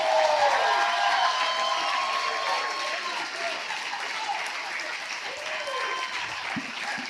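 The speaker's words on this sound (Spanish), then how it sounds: "Si tú le vas a aplaudir, apláudele con todo a Él." Sustained applause from a church congregation during a sermon, a dense steady wash of many clapping hands filling the room, with a voice speaking over it near the end.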